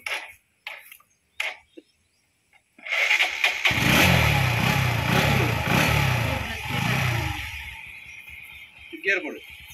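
A motorcycle engine cranks and starts after a few brief sounds, then idles and revs loudly up close with a rough, steady rumble. Voices are heard before the engine catches.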